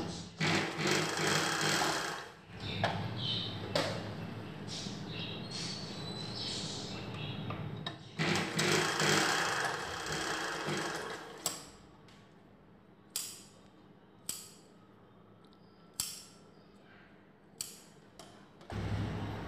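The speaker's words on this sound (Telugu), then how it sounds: "ఇప్పుడు బ్లౌజ్ నెక్ కుట్టు వేసుకుందాము." A sewing machine stitching joined blouse neck pieces for a katori blouse, running in long whirring bursts that give way to a few short, separate clacks near the end, with no talking.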